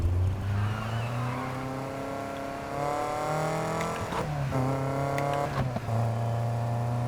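A car engine in a racing video game revs up and holds a loud, steady drone, pitch rising and dropping between gear shifts, close and prominent with no talking.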